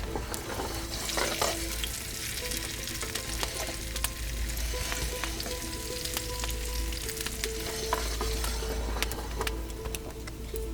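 Potatoes sizzling in a pan inside a wood-fired oven, a steady dense crackle and hiss with scattered sharp pops, close and continuous, no voices.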